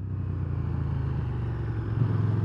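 A KTM 1290 Super Duke R motorcycle engine drones steadily while riding, a low rumbling throb heard close and continuous, with a slight rise in revs near the end.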